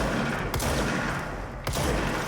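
Enemy gunfire in the video game Control, with dense, continuous shooting and two sharper bursts standing out, loud and close throughout.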